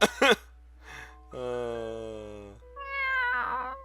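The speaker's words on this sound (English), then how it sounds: "Leth meows, then lies down underneath the table." A cartoonish cat named Leth from the video game Fatal Twelve lets out several distinct meows, the longest a sustained, tonal cry, each standing out clearly against near silence.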